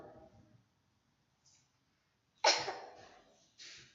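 A single sharp sneeze bursts out after a quiet stretch, close and fairly loud, followed by a brief breathy sound.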